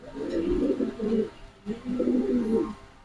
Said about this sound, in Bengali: বোট ঠোঁটের কবুতর।